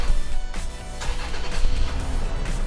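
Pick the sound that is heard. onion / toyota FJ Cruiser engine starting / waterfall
toyota FJ Cruiser engine starting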